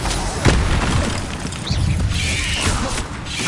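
A fire spell goes off in the Hogwarts Legacy video game, a brief whooshing burst with a low boom near the start, followed by dense crackling and rumbling effects in a busy combat scene.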